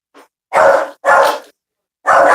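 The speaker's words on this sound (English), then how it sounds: "My dog is getting a little angry," A dog barks loudly three times in close succession, each bark rough with a growling edge, after a faint short yip, with silence between.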